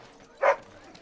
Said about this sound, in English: Who's the cute and adorable puppy?